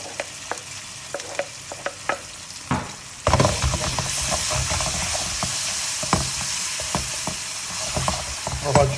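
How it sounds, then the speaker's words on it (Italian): Garlic, onion and salmon frying in a pan for spaghetti with salmon and cherry tomatoes, a few stirring clicks and then a loud, steady sizzle close by, with occasional utensil taps. "Faccio soffriggere aglio e cipolla"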